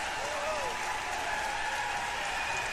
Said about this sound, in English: Listen to this round of applause for all these girls.